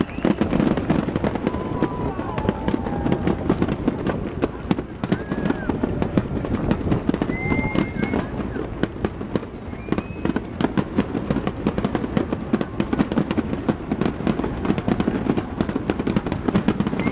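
Fireworks at the Tenjin Matsuri festival in Japan crackle and pop in a dense, continuous barrage, with scattered whistling rockets rising through the din and crowd noise underneath.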